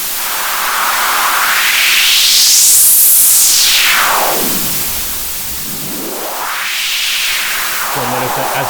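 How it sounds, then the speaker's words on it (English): Steady hissing white noise with a sweeping tonal resonance from an EQ boost that rises, falls, then rises again, like a filter being swept, loud and continuous. "So let's go ahead and try that with the white noise."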